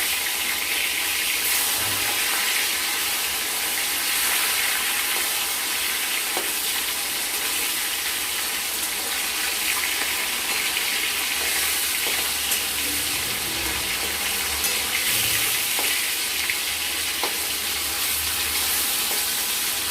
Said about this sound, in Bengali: একদিকে ভাজা হয়ে গেছে এবার আমরা মাছটাকে উল্টে দিলাম